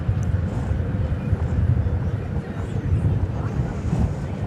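A 5-year-old Boeing 787 Dreamliner touches down at DFW Airport after a 12-hour flight from Seoul, a steady low engine rumble with wind noise running throughout the stretch.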